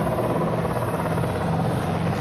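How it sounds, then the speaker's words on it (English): A helicopter thunders steadily overhead during a 1987 Fourth of July parade in Bristol, Rhode Island, its rotor beating in a dense, continuous drone with no pauses. "You may hear the helicopter flying right overhead."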